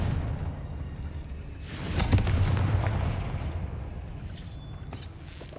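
The Confringo explosive spell from Hogwarts Legacy goes off in a deep, rumbling blast that swells and fades over a couple of seconds, followed by a few fainter crackling bursts against steady game ambience.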